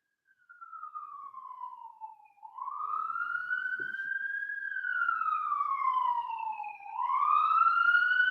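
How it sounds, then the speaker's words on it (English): An emergency siren passes downtown, wailing up and down in long sweeps and rising in loudness as it nears, heard clearly with no speech over it. "I live downtown, siren going by."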